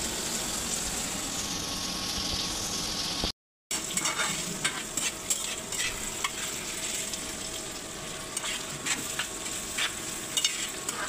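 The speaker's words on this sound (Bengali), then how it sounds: "যেভাবে হচ্ছে করলা ভাজিটা রান্না করছি" Bitter gourd frying in a pan on an electric stove, a steady close sizzle broken by repeated scraping stirs of the spatula, with a short silent dropout near the start.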